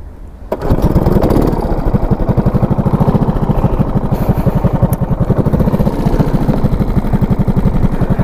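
A go-kart engine on a wet karting track kicks in after a brief quiet moment and revs, giving a loud, rapid, evenly pulsing buzz close by that carries on without a break.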